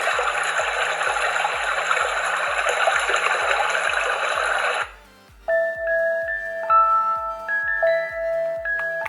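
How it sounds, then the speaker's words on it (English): A recorded babbling brook from a sound machine: continuous bubbling, rushing water plays steadily for several seconds, then stops abruptly and a gentle music-box lullaby melody begins. "This is called brook."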